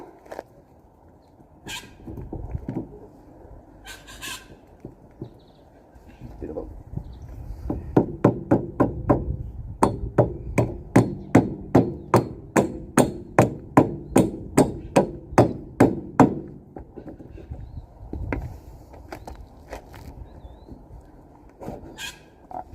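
A hammer taps a front hub onto the spindle of an AU–BF Ford Falcon, beginning with a few scattered knocks, then a long, fast, steady run of sharp metallic taps close by, easing off to a few last strikes.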